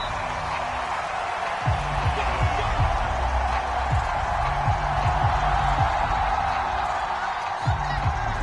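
A sellout stadium crowd at a Falcons versus Saints game in a Madden football video game keeps up a steady roar of cheering beneath a commentator's voice talking over it.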